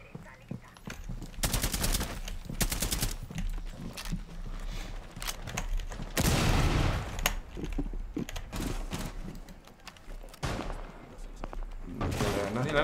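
Gunfire erupts in Rainbow Six Siege as loud, sharp bursts and short volleys that come in irregular clusters, some rapid and sustained, with quieter gaps between them.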